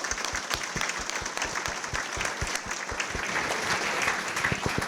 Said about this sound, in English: she hasn't gotten a round of applause yet